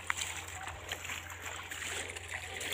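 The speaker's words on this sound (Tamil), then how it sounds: "15 நாள் சாணியை கரைச்சி விட்றோம்." Fifteen-day-old cow dung being stirred and dissolved in water, soft sloshing and splashing close by under a steady low hum, with someone talking over it.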